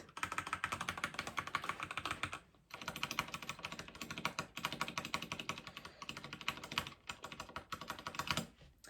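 Rapid, continuous clacking of keys on a Magegee MK STAR75 mechanical keyboard, close and crisp, with a brief pause near the start and another near the end.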